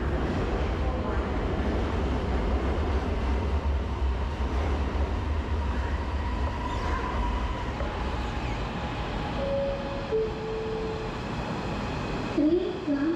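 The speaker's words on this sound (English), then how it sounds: "Train ke Ampang akan tiba di platform 2." An LRT train pulls into a station platform on the line through Sultan Ismail and Masjid Jamek, a steady low rumble that builds and then gives way to brief rising squeals near the end.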